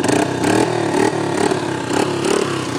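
A Honda XR80 dirt bike engine fires up and settles into a steady, close, loud idle with a pulsing, uneven putter and small throttle blips, with no talking.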